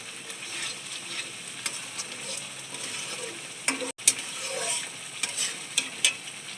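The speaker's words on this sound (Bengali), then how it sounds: "আমি একটু আলুগুলো দিয়ে দিলাম দিয়ে আবার ভালো করে কষবো" Potatoes fry in hot oil for aloo dum, with a continuous close sizzle broken by repeated scraping stir strokes and a brief clatter partway through, no voices.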